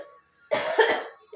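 A child coughs in a short cluster of three or four harsh, close bursts after a quiet moment, loud against the silent room.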